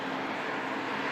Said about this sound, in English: Airbus A220